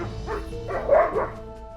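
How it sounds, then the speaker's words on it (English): A dog gives a short run of yelping barks, fairly loud and close, with a slightly whiny edge and no one talking. "The dog started barking to get our attention."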